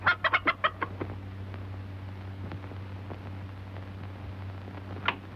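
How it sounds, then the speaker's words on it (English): Chickens cluck in a quick burst of sharp calls, then scattered quieter clucks and pecking sounds over a steady low hum, ending with one more loud cluck from a hen kept beneath a bed. "I have a hen sitting under the bed, and he likes to peck at her."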